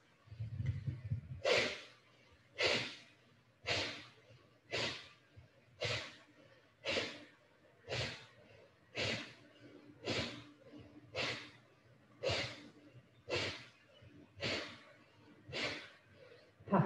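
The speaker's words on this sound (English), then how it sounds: "Inhaling through the nose, breathing only through the nose." Deep nasal breathing during a gentle yoga session: about a dozen slow, regular breaths, each a soft airy rush through the nose, close to the microphone and fairly quiet, with no talking.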